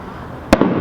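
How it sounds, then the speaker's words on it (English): A single sharp firecracker bang cuts through a steady low background hiss, followed by a fainter echoing pop just after. "You know, firecrackers"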